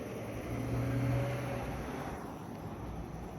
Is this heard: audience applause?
no